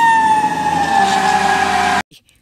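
A toy fire truck siren wails loudly with a steady electronic tone for two seconds, then cuts off abruptly, followed by a faint click.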